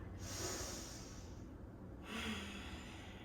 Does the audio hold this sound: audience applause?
no